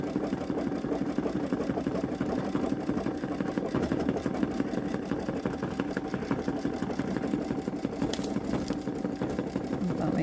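Babylock Solaris Vision sewing machine working a dense satin stitch on a stretchy sweater, a steady rapid needle chatter that runs without a break and sounds strained throughout.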